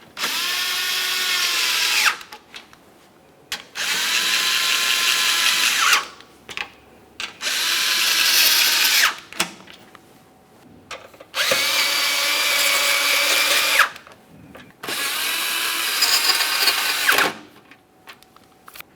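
Power drill running in five strong bursts of roughly two to three seconds each, separated by short pauses, while snugging the lower radiator mounting bolts on a 2017-2024 GMC Acadia; loud and close, with no talking.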